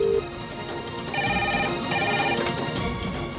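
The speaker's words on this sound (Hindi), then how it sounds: "जल्दी फोन उठाओ, कौन है?" A telephone at a school office rings in two short electronic bursts against a steady background hum.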